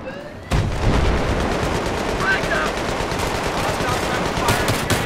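Rapid automatic gunfire in Battlefield 3 on the Gulf of Oman map, dense and continuous bursts starting abruptly after a brief quiet moment, with faint speech mixed in.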